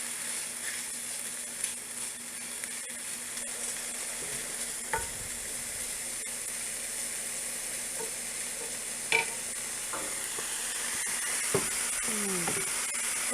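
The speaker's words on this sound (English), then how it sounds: "and then I'll roast up the potatoes, pan roast the potatoes, and then I'll do the sausage" Potatoes pan roasting in a skillet, sizzling and frying steadily and softly throughout, with a few faint clinks and stirring scrapes along the way.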